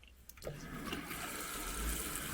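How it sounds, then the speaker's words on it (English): Hot water running from a tap into a sink, starting after a brief clatter and then pouring steadily and evenly, close and fairly loud with no talking. "Get some hot water rolling here."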